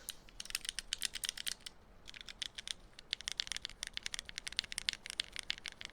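Fast typing on keyboard keys, a dense stream of crisp clacks with one brief pause, recorded up close and heard alone.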